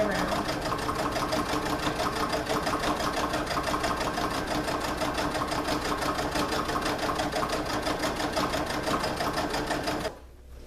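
A sewing machine runs steadily while stitching a large tote bag, a loud, close, continuous rapid whir of needle strokes that stops abruptly near the end.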